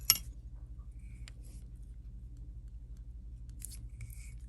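Scissors snip off excess thread while tying a seal leech fly, giving two or three short, crisp metallic cuts over a steady low hum, with no talking.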